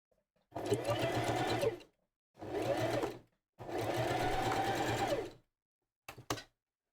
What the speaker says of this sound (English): it's a bit intense with the sewing machine